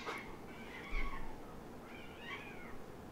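Street cats in Ashkelon, Israel, meowing a few times, with two drawn-out cries in a row against quiet outdoor background noise.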